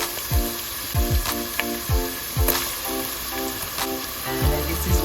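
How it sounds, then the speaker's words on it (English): Chopped garlic, ginger and onion sizzle and crackle steadily in two tablespoons of hot oil in a pot, a close, continuous fry with occasional stirring scrapes and pops. "I have 2 tablespoons of oil in my pot. And I'm going to go in with my chopped garlic, ginger,"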